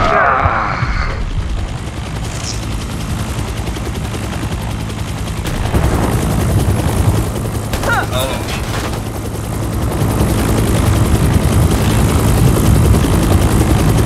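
A helicopter in a Predator video game keeps up a loud, continuous rotor and engine drone throughout, with gunfire bursts and brief sharp impacts mixed in as voices talk over the scene.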